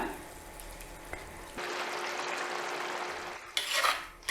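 Strained tamarind water is poured slowly into a pan of simmering okra and onion curry, a soft steady wash of liquid sound following a brief clink, ending with a louder burst of bubbling.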